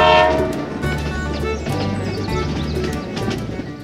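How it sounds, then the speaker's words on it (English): A toy train rolling past a homemade model train station, a busy clattering rumble with rhythmic clicks of wheels over track joints, close and fairly loud, no talking. "Whoa, here it is. The train continues its journey."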